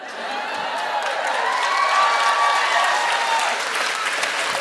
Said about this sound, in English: I went for it and people applauded